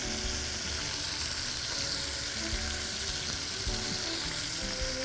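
Chicken pieces fry in olive oil in a pan with a steady, loud, dense sizzle that runs throughout, with no voices.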